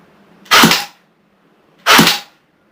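Two sharp shots from a battery-powered blowback airsoft gun, about a second and a half apart, loud and close in an otherwise quiet room.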